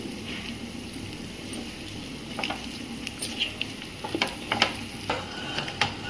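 Chicken pieces fry in masala and oil, a low steady sizzle broken by a run of sharp spatula scrapes and taps that grow busier toward the end, with no talking.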